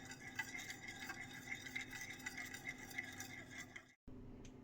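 A butter knife stirs melted butter in a bowl for pancake batter, a steady run of quick scraping clinks against the bowl close up, continuing for several seconds before a brief stop and a short resumption.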